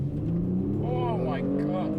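A Kia Stinger launches at full throttle from a brake hold with traction and stability control off, the engine note climbing quickly over a steady low rumble in a brief burst.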